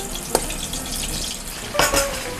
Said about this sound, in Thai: ตอนนี้น้ำมันเริ่มร้อนครับ ผม ทยอยลงทอดครับ